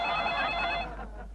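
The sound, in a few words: telephone ringing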